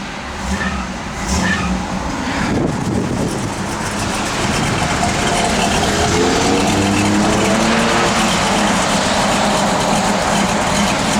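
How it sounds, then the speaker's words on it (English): 1967 Chevrolet Camaro RS convertible engine revved briefly, a loud rumbling rise and settle after some clatter, with idle continuing steadily around it. "A little rev there."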